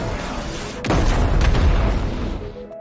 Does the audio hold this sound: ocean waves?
no